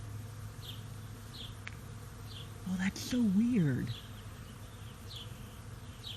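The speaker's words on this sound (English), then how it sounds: "I can actually hear the buzzing because there's so many bees over here" Swarm of bees buzzing around a blossoming cherry tree outdoors, a steady droning hum throughout, with a person speaking briefly partway through.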